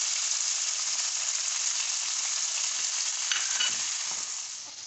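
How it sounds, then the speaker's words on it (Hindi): Potatoes fry with spices in a pan, giving a loud, steady close sizzle with faint stirring scrapes that eases slightly at the end, with no talk. "अब हम इसमें आलू शामिल करेंगे और इनको अच्छी तरह से हम भूनेंगे और ये साथ ही हम मसाले शामिल कर लेंगे।"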